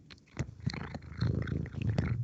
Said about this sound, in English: I can hear the purring.